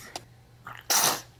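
A baby gives a single sharp sneeze, close and loud, after a couple of faint breathy sounds.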